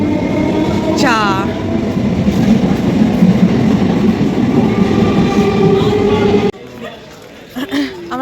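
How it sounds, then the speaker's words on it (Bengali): A train passes by at Bira railway station, a loud, steady rumble with rattling carriages that runs for several seconds and then cuts off abruptly, leaving quieter surroundings. Voices are heard over it. "ওহো যা ট্রেন চলে যা যা"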